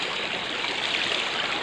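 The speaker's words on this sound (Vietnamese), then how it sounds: "Đây, là con sông này." A mountain river at night rushes steadily, a continuous broadband wash of flowing water, close and loud, with no voices over it.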